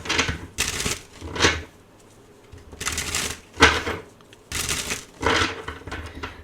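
Repeated bursts of tarot cards being shuffled, riffling in short rushes separated by quiet pauses, close and crisp.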